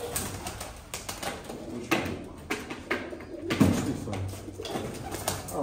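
Pigeons cooing softly nearby, with occasional wing flutters and light knocks in the background.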